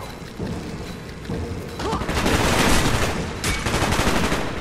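Heavy automatic gunfire and explosions from the Call of Duty Black Ops Vorkuta prison mission, with dense bursts that grow louder and more chaotic midway and continue without a break.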